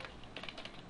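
Quick keystrokes clatter on a computer keyboard as a name is typed, a short run of close, light clicks with no talk.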